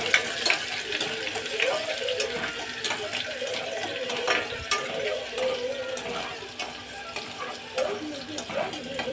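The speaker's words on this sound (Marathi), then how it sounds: "आता त्यात कांदा टाकते आणि कांदा चांगला परतून घ्यायचा." Steady sizzling of onion frying in hot oil, with scraping and stirring from a utensil running throughout.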